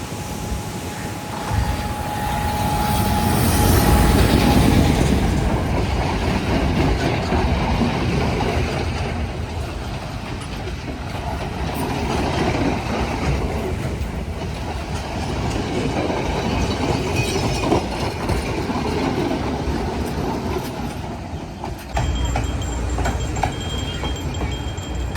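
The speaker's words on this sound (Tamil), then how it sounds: "இது ஒரு எக்ஸ்பிரஸ் ட்ரெயின். இந்த ட்ரெயின் நிற்காது இந்த ஸ்டேஷனில்." An express train rushes through a seaside station in Wellawatte, Colombo, without stopping, giving a loud, continuous rumble with rhythmic wheel clatter and faint high wheel squeal that swells early then carries on steadily.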